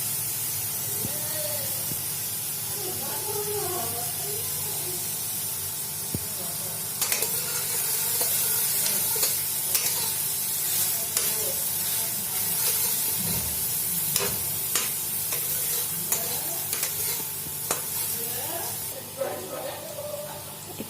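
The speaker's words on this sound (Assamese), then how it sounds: "পিঁয়াজখিনি ভাজি আছোঁ অলপ।" Finely chopped onions fry with a few curry leaves in hot oil in a pan, a steady close sizzle and hiss with occasional clinks and scrapes of stirring, and some talk now and then.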